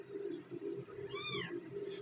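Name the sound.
newborn kitten meowing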